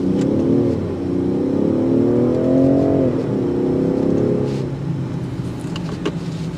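Range Rover Sport SE with a turbocharged engine accelerating from inside the cabin, a rising engine hum climbing through gear changes, fairly loud and close, then settling to a quieter cruise.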